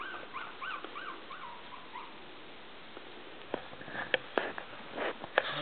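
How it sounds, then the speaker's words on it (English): Five three-week-old Maltese puppies whimper in faint, wavering squeaks, then sniff and snuffle with short soft bursts up close in a quiet room. "these are my five beautiful Maltese puppies"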